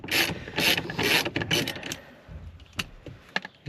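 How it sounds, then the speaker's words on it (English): A ratchet working the steering wheel nut on a 1999-2006 Chevrolet Silverado gives quick bursts of loud clicking in the first two seconds, then a few sparse, softer clicks and taps close by. "You should be able to just take the nut off"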